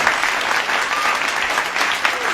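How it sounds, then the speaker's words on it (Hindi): A crowd bursts into loud, steady applause at a live Hindi comic verse performance about diesel and petrol prices, with dense clapping that fills the whole moment without letting up. "ताली हो जाए साहब एक बार मुझे।"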